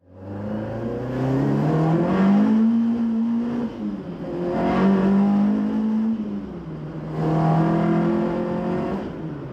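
A car engine revs up and settles three times in a row, its pitch climbing and falling as the vehicle drives along, loud and close.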